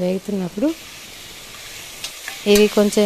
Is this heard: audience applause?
no